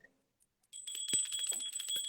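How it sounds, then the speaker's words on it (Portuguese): A small hand bell from Portugal rings in rapid repeated strikes, a bright sustained jingle close by, starting after a quiet moment and continuing steadily. "O meu sininho de Portugal."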